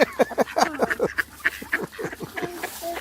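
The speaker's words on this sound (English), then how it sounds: "Quite beefy ducks." Large, heavy ducks on a river quack in a busy, overlapping chorus of nasal calls, close by and fairly loud, with no talking.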